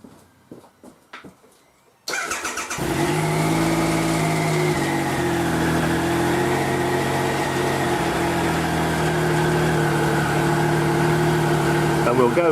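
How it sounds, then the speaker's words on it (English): A 2016 Triumph Trophy SE motorcycle engine cranks and catches after a few quiet seconds, then idles steadily with a smooth, even hum close by, its pitch shifting slightly as it settles. "So we're now going to start the engine."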